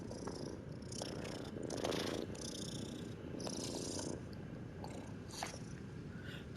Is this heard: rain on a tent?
no